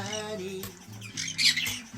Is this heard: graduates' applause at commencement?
no